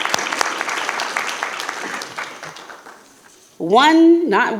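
Audience applause at a Richland School District Two board of trustees meeting rolls steadily for several seconds, thins out, and gives way to a voice speaking near the microphone.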